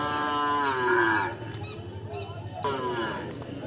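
A seven-month-old calf at a cattle market moos loudly and close by in two drawn-out calls, with a short pause between them over low background crowd murmur.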